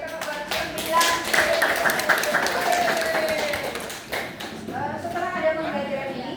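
A classroom of students claps together for a group of classmates, a run of sharp hand claps with voices talking and chanting over it.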